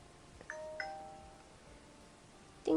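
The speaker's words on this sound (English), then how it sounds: "Ding dong, it's my phone." A phone ringtone with a doorbell-like ding-dong chime sounds faintly twice in a quiet indoor room, followed by a brief louder knock near the end.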